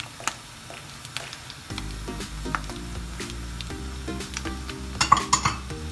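Spices are stirred into minced meat frying in a karahi, with a steady sizzle under repeated spoon scrapes and metallic clinks against the pan, growing busier toward the end.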